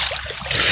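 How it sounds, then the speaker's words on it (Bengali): Someone dips into a shallow river beside a silt quarry, giving a brief burst of close, loud splashing and churning water. "এই যে এবার ডুব মারবো।"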